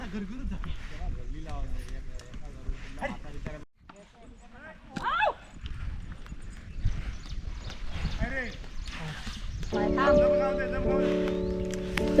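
Hooves of working bullocks clop steadily as they walk while ploughing a field in Konkan, heard under someone talking, with music coming in toward the end.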